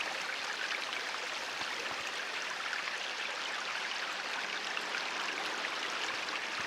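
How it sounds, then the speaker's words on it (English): Spring water pours out from under a rock, a steady, close hiss of flowing water that holds even and unbroken throughout, with no voices over it. "under the rock is where the water comes out"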